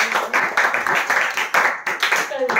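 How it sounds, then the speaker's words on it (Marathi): Students and guests at a school handwriting competition clap for a prize winner, a few bursts of hand claps in uneven groups, close and fairly loud, with voices mixed in. "टाळ्या वाजूया आपण."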